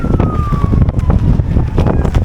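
Heavy wind thumps and roars against the microphone in rapid gusts on an ice-covered main street on a snow day in Portland, with a siren's falling tone faint in the background.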